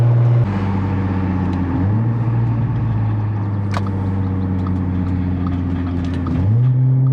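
Exhaust of an Audi S4 B8.5 on AWE Touring test pipes with the valves closed, a steady deep drone at idle with two brief rev blips, close and continuous with no talk.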